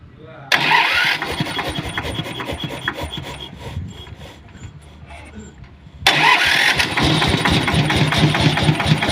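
A Kubota engine on a high-voltage power cable winch cranks and catches, with starter grinding followed by an idling run that surges louder partway through; a voice speaks near the start.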